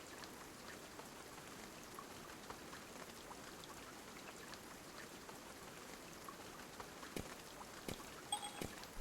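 Steady rain falls in the survival video game Dinosystem, a soft, dense patter of drops hitting surfaces, with a few sharper individual drips near the end and no voices.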